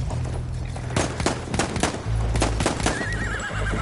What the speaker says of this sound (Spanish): ya se me vinieron dos caballos